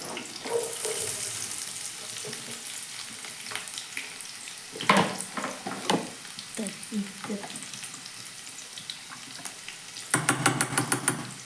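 Sliced onion fries in a little oil over a low gas flame, crackling and sizzling steadily while a utensil stirs and knocks at the pan, ending in a quick burst of rattling clatter.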